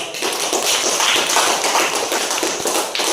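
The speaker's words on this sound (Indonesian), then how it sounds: "Ya oke, kita kasih aplaus." A classroom applauding a student group: dense, continuous clapping from many hands, loud and close, sustained for a few seconds with no speech over it.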